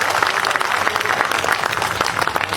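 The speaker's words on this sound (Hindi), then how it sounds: "एक बार तालियां बजा दे दोस्तों" An audience at a Hindi comedy poetry show claps steadily, a dense, continuous crowd applause with no pause across the whole stretch.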